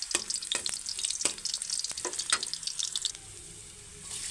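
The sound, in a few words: ginger sautéing in a pan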